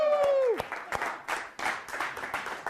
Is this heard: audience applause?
yes